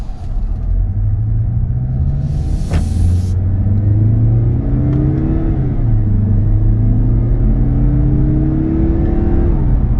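A 2021 Mazda 3 Turbo hatchback with paddle shifters pulls steadily from inside the cabin, a low engine drone rising in pitch and stepping down with each gear change, over a constant road rumble.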